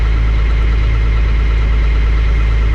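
John Deere 9400T tractor engine running steadily after shifting gears, a loud, constant low rumble with heavy vibration and no other sounds over it.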